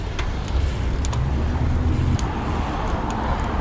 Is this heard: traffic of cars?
yes